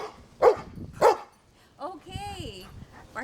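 A dog in a backyard lets out two sharp barks at birds flying overhead, then a short whining yelp, close and alone.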